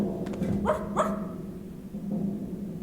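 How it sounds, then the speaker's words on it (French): A dog arrives and gives two quick barks over a steady background hum, followed later by a fainter yip, at moderate distance with no talking. "Rapidement, le chien Wolf arrive."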